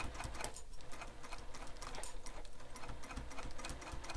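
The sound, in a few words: sewing machine top stitching around a bag flap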